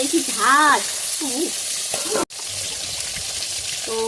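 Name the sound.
chital fish heads frying in oil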